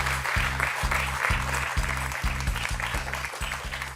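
A studio audience on the quiz show Questions pour un Champion claps steadily and loudly, with a rhythmic thumping beat running under the applause.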